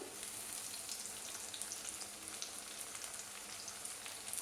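Soft, continuous sizzle of chopped onions and tomatoes frying in a pan, faint and even with tiny crackles scattered throughout.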